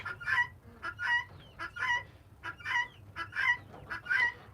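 Laying Leghorn hens in a coop with other chickens, a series of repeated clucks and squawks in short bursts, moderately close over a low background hum.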